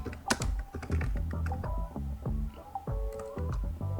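Fingers type on a computer keyboard while someone enters a street address into a business card design, a quick, irregular run of close, crisp key clicks with short pauses and no talking.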